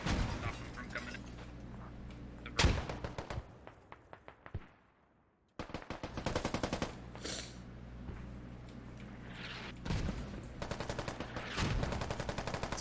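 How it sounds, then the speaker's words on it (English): Mortar shells landing during a competitive video game match, heavy booming impacts and rattling bursts of gunfire that pause briefly, then resume as a dense volley under a caster's commentary. "SPiT mortars landing on Pap."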